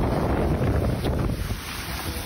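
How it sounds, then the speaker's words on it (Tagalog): Typhoon rain and wind in Baras, Catanduanes, a dense, loud roar of pouring rain and strong gusts buffeting the microphone, constant and close with no talk. "Halos hindi na makita ang kapalibutan sa lakas ng ulan at lakas ng hangin"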